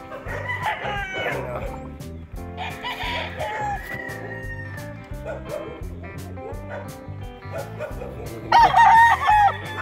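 Sweater and Raptor bloodline gamefowl roosters crow repeatedly at a farm in Tagaytay, overlapping calls near and far, with dogs barking and faint voices in the background.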